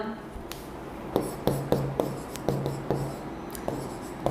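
Pen or marker strokes writing out equations during a class 11 maths lesson on limits, a series of short scratchy taps and scrapes in an irregular rhythm, close and clear over a low hum.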